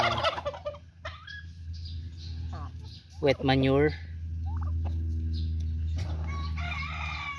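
Turkeys gobble in a loud burst at close range over a steady low hum, with scattered clucks and bird calls around them and a brief spoken phrase near the start.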